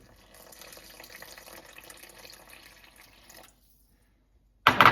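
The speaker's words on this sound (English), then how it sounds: "Now we're gonna start pouring our water in." A soft, steady trickle of water pours into flour mixed with butter for a few seconds, then stops, followed by a sudden loud clatter.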